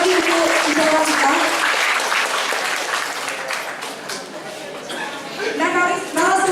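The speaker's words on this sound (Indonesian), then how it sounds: "Tepuk tangan sekali lagi untuk idola kita." Applause from an audience at an Indonesian academic seminar on communication studies, honouring a researcher; loud, dense clapping with chatter fills the stretch, easing slightly midway, and a voice speaks briefly near the end.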